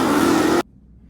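A car's 6.1 liter Hemi V8, rated at 425 horsepower, roars in a loud sustained rev close by, then cuts off abruptly into near silence.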